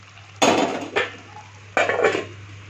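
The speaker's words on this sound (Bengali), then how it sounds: "ঢাকনাটা তোলার পর অনেকক্ষণ ধরে এটা নাড়তে লাগবে" Vegetables with beans being stirred in a pot after the lid is lifted, three loud metallic scrapes and clanks of a utensil against the pot, close up, with a faint steady hum beneath.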